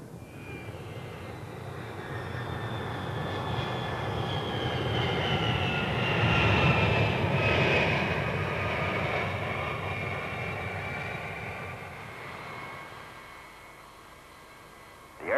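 Boeing airplane engines in a test flight climb at about 8,700 feet, a steady broadband roar with a faint high whine that swells in the middle and eases toward the end, no talk.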